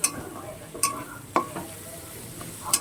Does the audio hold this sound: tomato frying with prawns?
yes